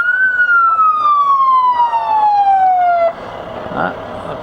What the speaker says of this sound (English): Looks like Cadyville is one of those parades that the fire departments sound their sirens.